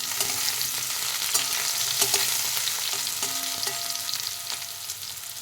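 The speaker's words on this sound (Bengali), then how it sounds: "এই বেগুনটাও ভালো করে আমি একটু ভেজে নেব" Steady sizzling of eggplant pieces frying in a hot pan, a constant crackle broken by occasional scrapes and stirring taps, with no voices.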